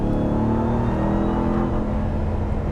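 A supercharged 2021 Ram TRX pickup's engine revs steadily and loud up close, a dense sustained roar with a rising, whirring tone and no voices over it.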